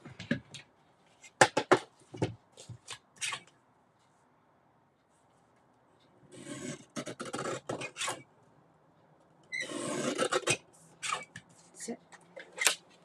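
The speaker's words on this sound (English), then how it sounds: "That just needs a little bit of a trim on my guillotine." Paper is trimmed on a guillotine cutter, heard as short scraping and rasping strokes in separate bursts with quiet gaps between, close and fairly soft.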